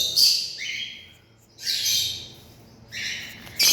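Cockatiel chicks, one fawn and two grey, calling in an aviary: three loud, harsh raspy squawks in close succession, each lasting about half a second to a second, separated by brief quiet gaps.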